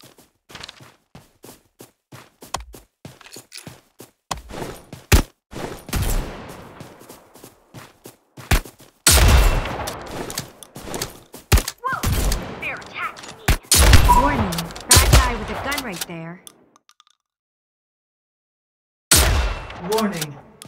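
Gunfire in the Fortnite video game: sharp, loud bursts of rapid shots and single cracks, in close clusters separated by short pauses, with occasional heavier blasts and a brief silence near the end.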